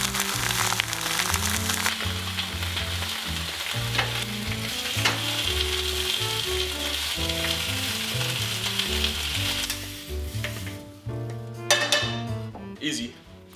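Three slices of Canadian bacon fry in a pan with a steady, close crackling sizzle that runs under loud backing music and thins out near the end.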